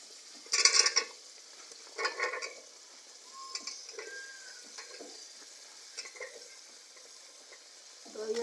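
Potato slices sizzling in a pan for aloo ki katli masala, with a few distinct scraping stirs near the start and softer sizzle and light clinks after, fairly close and alone.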